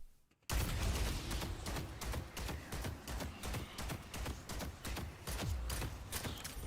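Rapid gunfire in a video game shooter, dense overlapping bursts of shots after a brief quiet start, loud and continuous, with no speech over it.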